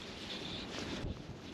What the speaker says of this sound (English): because I'm battling with the wind here at the minute